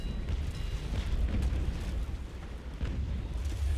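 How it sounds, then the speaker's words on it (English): Naval cannon broadside in the sailing game Naval Action Legends, heavy deep booms rolling together into a dense, sustained low rumble with no clear gaps between shots. "Pop a little broadside into him."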